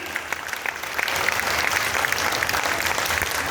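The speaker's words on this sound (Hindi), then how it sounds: "एक बार जोरदार तालियां सर के लिए हो जाएगा" A seminar audience claps loudly and continuously, a brief steady burst of many hands that swells slightly after the first second.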